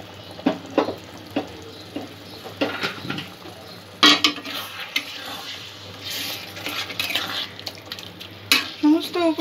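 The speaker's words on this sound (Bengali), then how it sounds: "চিকেন স্টক কিছুটা যোগ করে দেবো এর সাথে" Chicken stock goes into a pan of chicken cooking on the stove, with sizzling, stirring and clinks of a utensil against the pan, close and intermittent.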